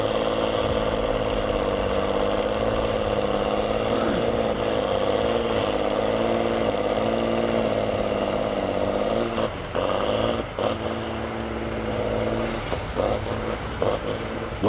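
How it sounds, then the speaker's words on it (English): A Waratah H290 forestry harvester head on a machine with an engine of up to 286 horsepower cutting and processing wood: a loud, steady heavy engine drone with wavering pitch and brief mechanical clunks and rasps near the end. "the Waratah H 290 allows for efficient cutting and processing of wood"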